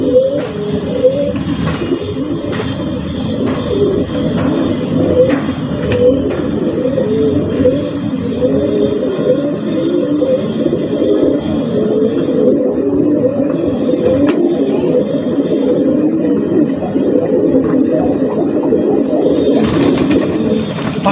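Pigeons coo repeatedly in low, throaty bursts, layered over one another in a steady murmur, with a few faint chirps from other birds.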